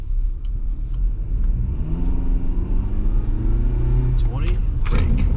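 A car on Michelin CrossClimate 2 tires pulls away, its mid-pitched engine note and road rumble climbing steadily as it builds speed, loud and close throughout.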